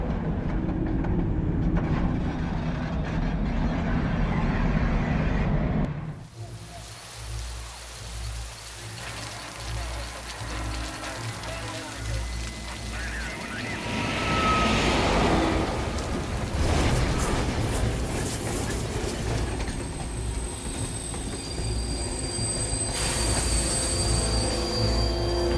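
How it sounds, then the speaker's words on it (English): Train wheels squeal as a train brakes to an unexpected stop in heavy rain in the video game Beyond: Two Souls, with a loud rumbling wash of rain and rail noise throughout and a sudden drop midway before screeching rises again. "unexpected stop, do not leave the train."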